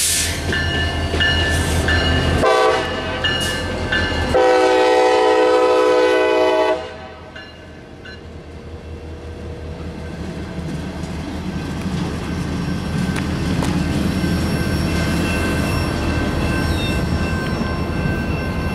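An EMD SD70MAC locomotive switching at an industry on the CSX mainline, with a caboose, sounds several loud horn blasts up close, then settles into a steady low diesel rumble and rail noise.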